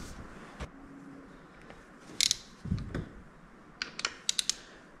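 A torque wrench snugs down the dump valve bolts on a Powerglide transmission in a star pattern, giving short sharp mechanical clicks and ratchety ticks in a few close bursts over a quiet background.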